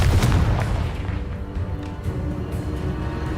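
Confringo fire spell blasting in Hogwarts Legacy on PC, a loud close boom at the start followed by rumbling bursts and crackling debris that keep rolling under the game's ambience.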